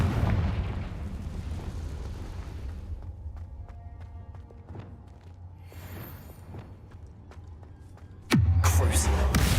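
Fiery spell blasts from Confringo in the Hogwarts Legacy video game, a spider fight: scattered sharp pops under game noise, then a loud booming burst near the end.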